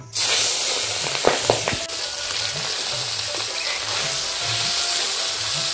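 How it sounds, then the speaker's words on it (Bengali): Singi fish, rubbed with salt and turmeric, fry in hot oil with a loud, continuous close-up sizzle and hiss, broken by a few sharp pops and spatters early on. "মাছগুলো ভেজে নেব।"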